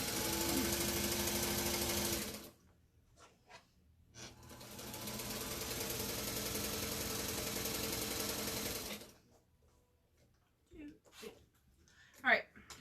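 A sewing machine stitches quilt-as-you-go place mats by chain piecing, running in two long steady bursts separated by a pause, then stopping while soft clicks and brief handling sounds follow.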